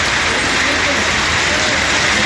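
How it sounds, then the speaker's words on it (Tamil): Light drizzling rain falling outdoors, a steady dense hiss of fine drops with no breaks, fairly loud and filling the whole short stretch. "சாரல் மழை பெய்தது"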